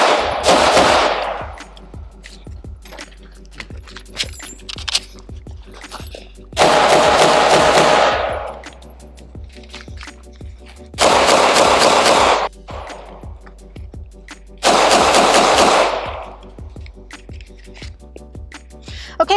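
Lone Wolf Arms Dusk 19 pistol fired in four loud, close strings of rapid shots, each lasting a second or two, with quiet gaps between them.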